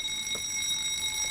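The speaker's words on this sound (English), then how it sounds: "Is that the fire alarm?" Inside an old hotel in The Suicide of Rachel Foster, a fire alarm rings as a steady high-pitched electronic tone, continuous and moderately loud over faint room noise with no voices.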